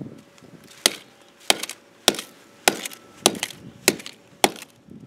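A ball peen hammer smashes a camera with eight sharp, hard blows in a steady rhythm, each a loud, close crack with a short rattle, and no voices.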